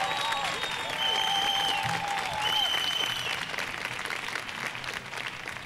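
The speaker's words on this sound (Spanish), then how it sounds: "Un aplauso, por favor." An audience at a feminist panel discussion applauds with dense, steady clapping that fills the room, fairly loud and sustained before gradually thinning toward the end, with faint tonal sounds layered over the start.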